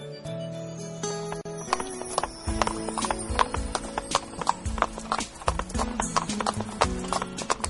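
A cartoon horse clip-clops briskly while pulling a cart, its hooves striking in a quick, even rhythm close by, with tonal sound and a possible whinny mixed in.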